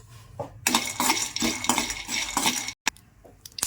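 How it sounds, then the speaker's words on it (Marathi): Peanuts dry-roasting in a pan while being stirred, a run of repeated scraping clinks and rattles of utensil against metal, fairly close, with a brief pause before lighter clatter resumes. "आपण थोडेसे शेंगदाणे भाजून घेऊ"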